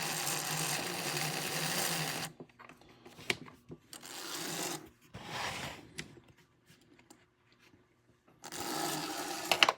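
The small motor of a serviced Tri-ang Stephenson's Rocket model steam locomotive whirs in bursts with stretches of quiet and faint clicking between them, close and fairly soft, starting and stopping several times.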